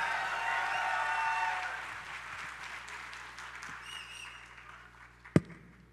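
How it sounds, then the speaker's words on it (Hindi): An audience at a mushaira poetry gathering applauds to welcome the poet, a dense wash of clapping that swells, then fades over several seconds, ending with one sharp knock. "लोग आपको पहले ही तालियां बजाकर इस्तकबाल कर रहे हैं"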